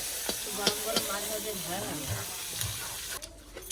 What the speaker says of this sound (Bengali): আজকে যে বাজার থেকে মাছ নিয়ে এসেছিলাম এ মাছ ভাজা খেতে খুব ভালো লাগে কাকিমা ভাজছে